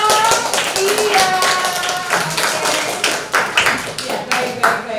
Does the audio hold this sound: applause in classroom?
yes